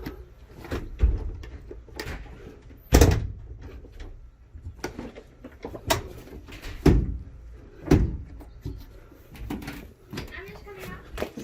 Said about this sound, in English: Now we're gonna try closing the cover here.